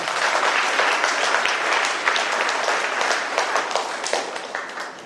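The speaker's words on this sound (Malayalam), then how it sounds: "നല്ല ഒരു റൗണ്ട് കൈയടി ഇപ്പോൾ കൊടുക്കാമോ?" Sustained applause from a congregation at a church blessing ceremony, dense and fairly loud clapping filling the space for several seconds before tapering slightly at the end.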